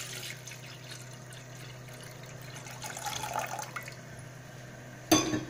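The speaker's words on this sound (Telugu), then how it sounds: "ఫస్ట్ మనం స్టవ్ వెలిగించి గిన్నె పెట్టుకొని వాటర్ పోసుకుందాం" Water pours into a pot on a lit stove, a faint, steady trickling stream that swells slightly midway and ends with a sharp clink.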